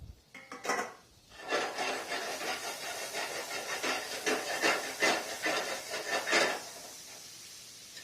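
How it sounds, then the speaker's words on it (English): Potatoes sauté in a hot pan with a loud, steady sizzling hiss that swells after a brief clatter and holds for several seconds before easing. "You hear them sizzling?"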